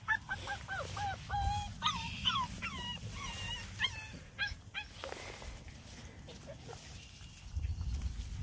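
A beagle puppy whimpers and whines in a rapid series of high, thin, wavering cries, fairly close, over a low steady background hum.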